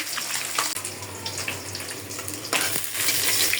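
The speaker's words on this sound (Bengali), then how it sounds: "আর এদিকে মাছ ভাজা হয়ে যাচ্ছে।" Fish frying in a pan of hot oil for a fish curry with Malabar spinach and pointed gourd: a steady, loud, close sizzle with brief crackling bursts, heard alone.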